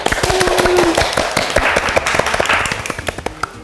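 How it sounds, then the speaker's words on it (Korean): An audience claps to greet the singer, a dense, close round of rapid hand claps that continues throughout and thins into separate claps near the end, with a brief vocal sound at the start. "자 박수"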